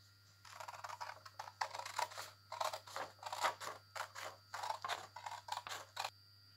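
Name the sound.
scissors cutting folded paper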